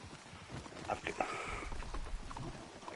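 Horse hooves clip-clop in a video game, a quick irregular run of light hoof strikes fairly close, layered over a busy game background without talk.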